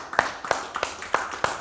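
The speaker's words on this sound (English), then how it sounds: "Give the Lord a hand clap." A church congregation claps in a steady rhythm of five or six sharp, evenly spaced hand claps, close and distinct, with no talk over them.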